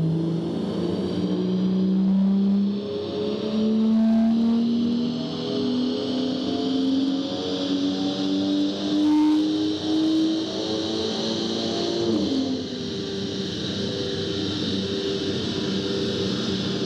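A BMW M240i with a Stage 1 tune revs hard on a dyno. The engine note climbs steadily through the gears with a shift near the end, loud and continuous, with no talking.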